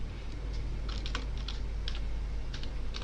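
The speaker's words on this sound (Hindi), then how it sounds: "मोहित की जगह हम देखिए अभी लिखते हैं यहाँ पर आशी," Rapid keyboard typing as a value is entered into a cell of an Excel spreadsheet: a steady run of close, crisp key clicks over a low hum, with no talking.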